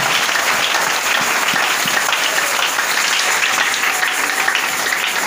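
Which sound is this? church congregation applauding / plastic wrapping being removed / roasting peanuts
church congregation applauding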